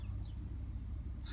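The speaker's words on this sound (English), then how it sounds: "I'll turn the motor off." A parked car's engine idles as a low, steady rumble, close and continuous, with no talk over it.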